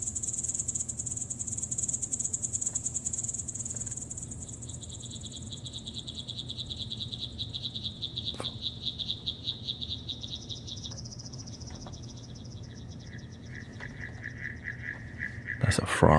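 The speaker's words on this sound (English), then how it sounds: "That's a frog or a toad, right?" Frogs or toads call over a continuous shrill insect chorus, layered high trills shifting in pitch against a low ambient drone in a live sound-healing loop with native flutes, ending with a brief sharp burst.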